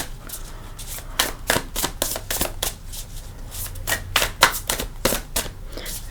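A large tarot deck is riffled and shuffled by hand, producing quick bursts of papery card flutters in an irregular rhythm, close and moderately loud, with no voices.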